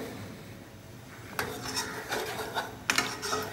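Ginger tea with stevia is stirred in a pot; after a quiet stretch, a spoon clinks and scrapes against the metal in quick, irregular bursts, close by and without speech.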